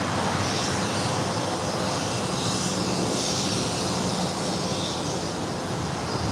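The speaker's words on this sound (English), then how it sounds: "Southwest Airlines flight 9026 coming in from Denver" A Southwest Airlines jet in Maryland One livery, a flight in from Denver, arrives at LAX on the south side. Broad, steady engine roar and rushing air hold at a constant loud level throughout, with no voices.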